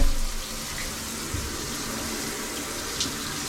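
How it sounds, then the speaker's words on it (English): Water runs steadily from a faucet in an 1893 hotel bathroom, a close, even rushing stream with no talk over it. "it starts water on this one."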